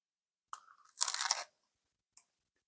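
A close, crisp crunch as someone bites into toasted no-knead English muffin bread: a short first bite, then a louder dense burst of crackling chewing, and one faint click after.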